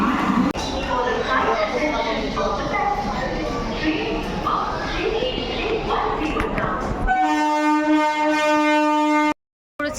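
A crowded, noisy Kolkata station hum with chatter gives way to a long, loud horn blast from the train to Digha, then cuts off abruptly.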